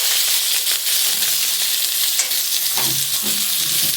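Two medium chopped onions fry in hot oil with bay leaf and whole cumin over lowered gas heat, giving a loud, steady close sizzle with occasional stirring scrapes.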